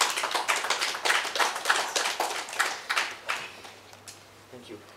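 Poetry café audience clapping after a poem, a burst of distinct hand claps at moderate volume that thins out and fades over a few seconds.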